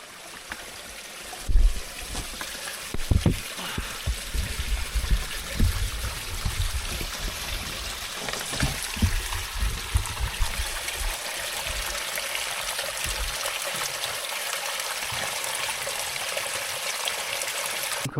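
Forest stream in wilderness after a typhoon, water trickling and gurgling close by with scattered splashes and knocks early on, then settling into a steady soft flow, no voices.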